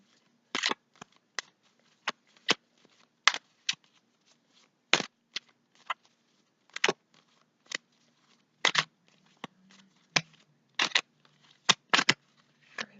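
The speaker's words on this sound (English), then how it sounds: "Okay, so we're going to start shuffling here." Tarot cards being shuffled by hand during a card reading, heard as irregular brisk riffling bursts spaced apart across the stretch, close and fairly crisp with quiet gaps between.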